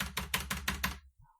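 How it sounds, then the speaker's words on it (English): Typing on a mechanical keyboard: six evenly spaced, loud clacky keystrokes in a quick, steady rhythm, close up, followed by silence and a faint short sound. "Do you have a mechanical keyboard? I do have a mechanical keyboard."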